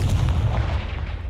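The Confringo spell blasts in Hogwarts Legacy as a single dense, booming burst, loud and rumbling for about a second.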